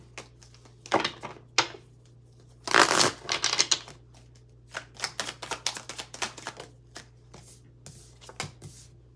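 Tarot cards are shuffled close up in quick riffling bursts, with one longer shuffle in the middle and a string of short taps and flicks after it, set against a quiet low hum.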